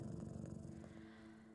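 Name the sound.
cat purring while being petted in Bully video game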